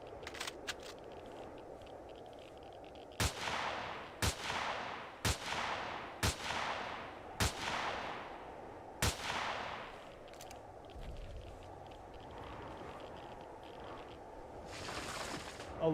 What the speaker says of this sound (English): let's keep shooting the golems